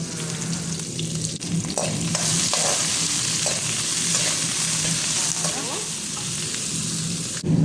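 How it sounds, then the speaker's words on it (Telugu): Chopped onions and green chillies fry in oil with bay leaf, cinnamon, cloves and cardamom. A dense, continuous sizzle sits close, broken by scattered scraping and stirring knocks, and no voices are heard. "ఎర్రగడ్డలు ఎర్రగడ్డలు పచ్చిమిరపకాయలు రెండు వేసేస్తాను బాగా వేగాలి కదా"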